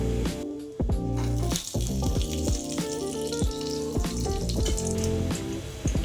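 Semolina roasts in cow ghee in a nonstick pan, with a soft sizzle under repeated scraping and knocking strokes of a spatula against the pan.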